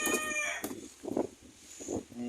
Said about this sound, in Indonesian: suara ayam ini ya, mengganggu suara saya nih